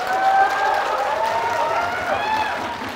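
Audience applause in a hall during an Islam vs atheism debate: a steady patter of clapping, with a voice speaking over it throughout.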